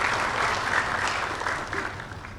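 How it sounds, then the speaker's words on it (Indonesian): An audience at a university graduation ceremony applauds in a brief, fairly close burst of clapping that gradually tapers off. "Tepuk tangan untuk Bapak Rektor kita"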